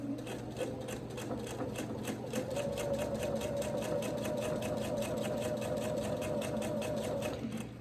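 A sewing machine stitches a seam for a small quilt block at a steady, moderate pace, its rapid needle clatter running evenly and close by for several seconds with no voices.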